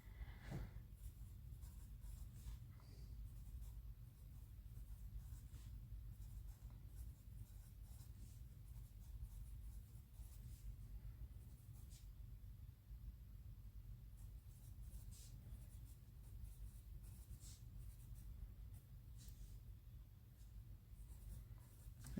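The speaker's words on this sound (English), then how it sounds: "When I write with a pencil, I feel like I'm in school again" Pencil writing on paper while filling in a net worth tracker, a quiet, continuous scratchy scribbling close to the microphone with small strokes and pauses, no talking.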